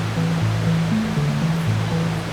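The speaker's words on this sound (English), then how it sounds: "This is the tallest waterfall on the planet." A waterfall at a filming location, heard as a steady, unbroken rushing roar with low sustained tones humming beneath it.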